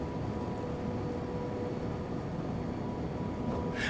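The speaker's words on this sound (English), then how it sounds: "you can probably appreciate the sounds of the train" A steady low rumble of a train in motion in Train Sim World 2022, with faint mechanical hum and rattle running continuously, no talking.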